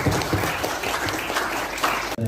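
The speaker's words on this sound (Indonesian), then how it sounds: "tepuk tangan teman-teman" Students clap for a speaker at a seminar on fighting hoaxes ahead of the 2024 election, a short burst of lively crowd applause that cuts off abruptly near the end.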